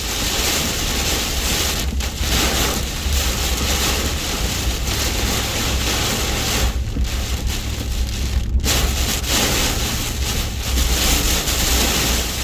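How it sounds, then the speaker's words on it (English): Tornado-driven high winds and heavy rain batter a truck on a road in Alabama, a loud, continuous roar of rain and wind on the vehicle that surges in gusts throughout, with no voices. "High winds, high water, rain pushing the truck left and right."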